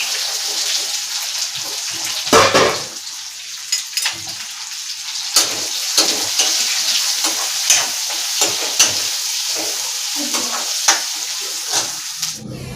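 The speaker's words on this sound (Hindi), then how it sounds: "अब मैं डाल दे रही हूँ प्याज।" Onions sizzle in a pan together with ginger-garlic paste and green chili, giving a steady, bright frying hiss with occasional stirring clicks and spatters, close up, with no talking.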